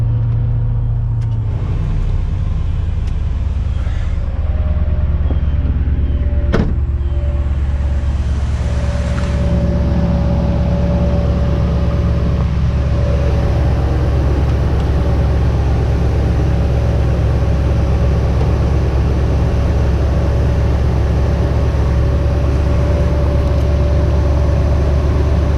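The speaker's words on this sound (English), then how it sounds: "You want to crank your vehicle up, have your AC on full max," A 1999 Ford F-150 idles steadily with its air conditioning on full max, a low continuous engine rumble and fan hum lasting throughout, close and unchanging with a brief click early on.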